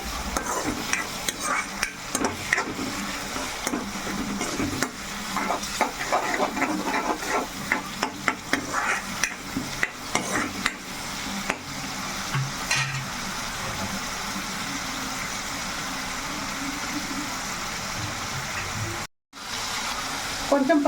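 Green masala paste frying and sizzling in a pan while a spoon stirs it, with steady crackle throughout, frequent scrapes and clinks of metal against the pan, and a brief break near the end.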